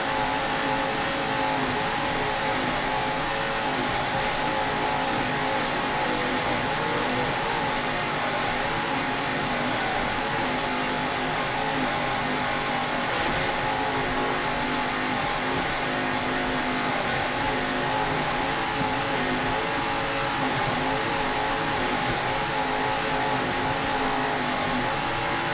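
Loud racing boat engines roar on without a break at the start of an APBA world championship race in Key West, a heavy sustained rumble with revving swells and no talking.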